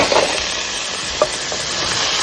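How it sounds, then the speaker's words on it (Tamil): Boiled, drained black chickpeas for sundal are stirred in a hot pan, making a loud, continuous close sizzle punctuated by a few sharp spoon clicks against the metal. "வேக வச்சு வடிகட்டின சுண்டலை நாம் போட்டுடலாம்"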